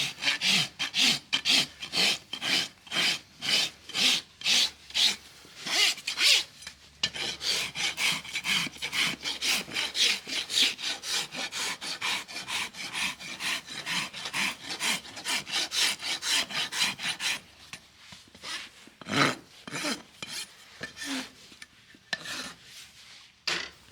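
A farrier rasps a laminitic horse's hoof flat, producing long runs of rhythmic, rapid scraping strokes, close and steady, with a few brief pauses and slower strokes near the end.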